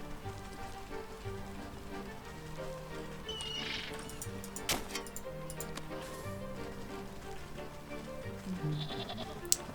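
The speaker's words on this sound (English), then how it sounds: "I heard a sheep" A sheep bleats a few times in the video game Wytchwood, faint and brief against a soft ambient bed of ticking and pattering sounds.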